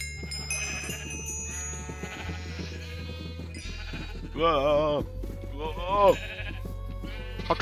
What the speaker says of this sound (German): Bäh, Schafe!